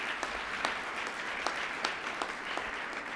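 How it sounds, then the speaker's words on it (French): An audience at a 2018 anti-bullying awards ceremony applauds steadily, a dense, sustained wash of clapping with no voices over it. "une bonne main d'applaudissements"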